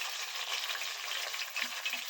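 Browned ginger and garlic with tomatoes frying in a pan, a steady, fairly quiet sizzle with faint stirring, no speech.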